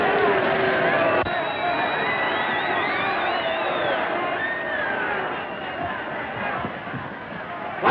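A boxing crowd in the 1934 film Palooka roars and cheers continuously in a dense, far-off wash of hubbub, with a voice talking over the noise.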